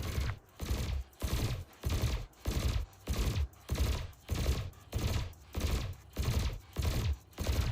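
Ship weapons in Elite Dangerous fire at canisters in a steady rhythm of about a dozen loud, evenly spaced bursts, each short and punchy with sharp attacks.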